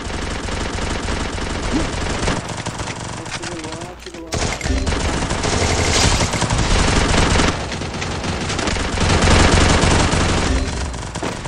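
Rapid bursts of Free Fire gunfire rattle almost continuously, loud and dense, with voices talking underneath.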